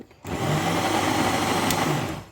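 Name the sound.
blender running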